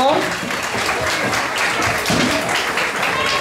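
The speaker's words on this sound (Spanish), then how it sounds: "Un aplauso para los niños, por favor." Audience applause for children at a church-style gathering, a steady wash of clapping with some voices mixed in, filling the short moment at even volume.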